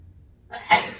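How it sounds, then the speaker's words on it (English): A single close sneeze bursts out after a short intake of breath, loud and abrupt, with nothing else around it. "I'm gonna sneeze on the pepper."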